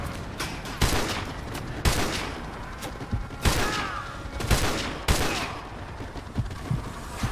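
Repeated sniper rifle shots ring out in the Call of Duty Modern Warfare 2 campaign mission The Gulag, sharp loud cracks roughly every second or so with echoing tails over background battle noise and faint radio chatter.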